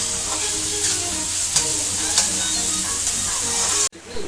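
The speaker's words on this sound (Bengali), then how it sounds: "পেঁয়াজটাকে একটু ভাজা ভাজা করে নেবো" Onions frying in a pan for chicken curry give a steady, close sizzle with brief stirring scrapes, then a sudden cut near the end.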